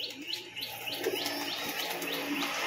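Lal Kat fancy pigeons coo and call close by, with repeated short rising notes in a quick series over a soft background murmur.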